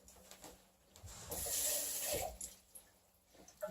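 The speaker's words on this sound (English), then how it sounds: "Rinse my can out." Tap water running into and over a can as it is rinsed out in a home kitchen, a close splashing rush swelling in the middle and then trickling and clinking off.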